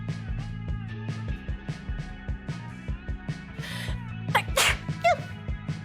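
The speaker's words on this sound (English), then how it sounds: "I gotta sneeze." A person sneezes during a casual livestream chat, one sharp burst near the end after a few seconds of steady background hum and soft clicks.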